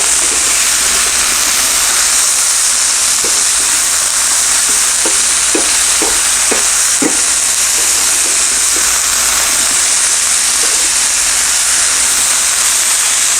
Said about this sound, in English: These vegetables are going to cook, 3 or 4 minutes. And again, at the highest temperature you can